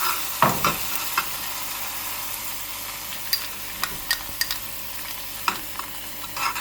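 Butter garlic sauce with lemon juice cooks in a pan for lobster, a steady close sizzle broken by occasional light taps and scrapes of a stirring spoon, with no talking.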